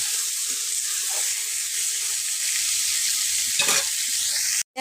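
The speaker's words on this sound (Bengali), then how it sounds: "হলদি পাউডার দেওয়ার পরে আমি ভালো মতো নেড়ে চেড়ে লাল লাল করে ভাজিয়ে নেব।" Eggplant fries in oil with turmeric in a pan, giving a steady, close sizzle with an occasional scrape as it is stirred. No one speaks.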